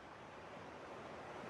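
A faint, steady rush of water from swimming in the video game Slaps And Beans, like gentle splashing or surf, continuing evenly with no voices.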